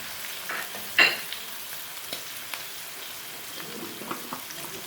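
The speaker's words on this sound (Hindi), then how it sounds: "मैं इसके अंदर साबुत मसाले ऐड करके हल्का सा इनको भुनाई करूंगी।" Low, steady sizzling of whole spices frying in a pan for matar pulao, with a few faint pops and stirring scrapes scattered throughout, no talking.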